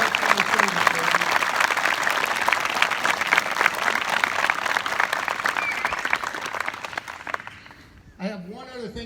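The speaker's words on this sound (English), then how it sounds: "Please give our ladies another round of applause." Dense audience applause honors women veterans at a flag retirement ceremony, steady for about seven seconds before tapering off, then a single voice begins speaking.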